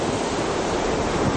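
Ocean waves wash steadily against an eroding beach groin, a dense, continuous roar of surf with little variation, loud and unbroken with no voices.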